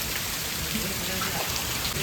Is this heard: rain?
yes